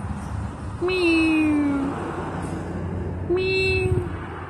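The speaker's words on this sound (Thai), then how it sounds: "แมว" A cat meows twice, two drawn-out, slightly falling cries a couple of seconds apart, heard over a low steady background hum.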